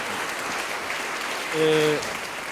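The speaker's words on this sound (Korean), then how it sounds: "큰 박수 보내주시기 바랍니다" Steady applause from a crowd at a Korean rally fills the space throughout, with a brief tonal sound rising over it near the end.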